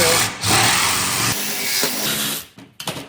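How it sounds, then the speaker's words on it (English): A Sawzall reciprocating saw cuts through a Shovelhead motorcycle frame with a loud, steady grinding buzz that runs for over two seconds, then stops, followed by a few brief clunks. "The freaking Sawzall. And that right there, my friend, will get us the rest of the way through."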